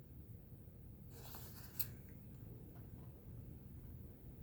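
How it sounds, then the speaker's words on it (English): Scissors cut paper along a drawn line while making a shabby lace envelope, one short soft snipping stroke near the middle of an otherwise quiet stretch. "Now, I'm going to cut exactly on the line"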